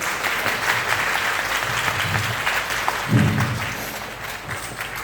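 A seated crowd at a dance stage event gives a burst of hand-clapping, a dense, fairly close wash of applause that swells briefly toward the end.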